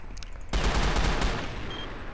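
Rapid gunfire in the CrossFire shooting video game, a dense burst of shots erupting suddenly after a quiet start and continuing loudly for over a second.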